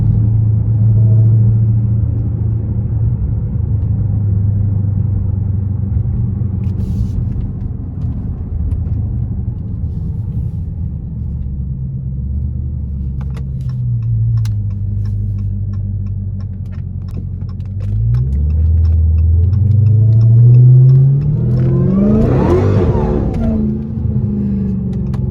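A Hellcat car engine idles with a low rumble while warming up, then revs and accelerates with rising and falling pitch as the car drives off, close and loud.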